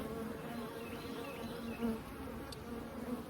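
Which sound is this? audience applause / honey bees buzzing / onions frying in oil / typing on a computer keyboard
honey bees buzzing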